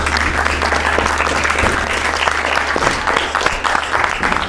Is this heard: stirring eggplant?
no